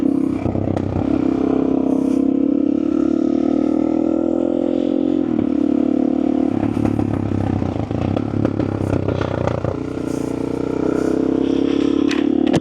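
Suzuki DRZ400SM motorcycle being ridden, its single-cylinder engine droning loudly up close with pitch shifts as it revs and changes gear, plus wind rush and some clatter, no talking.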